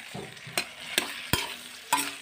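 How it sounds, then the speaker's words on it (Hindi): Boiled potato pieces with turmeric and spices being stirred and fried in a pan, several scraping strokes of the spoon over a steady low sizzle, close and alone. "इनको चलाते हुए भून लेंगे।"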